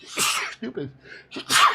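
A single sharp sneeze bursts out near the mic, followed by a short spoken reaction and a second abrupt sneeze-like exhale at the end.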